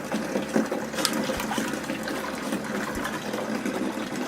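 Liquid from a yeast container is poured away during home brewing of an imperial stout, a steady splashing, gurgling pour close by, with a couple of low thumps.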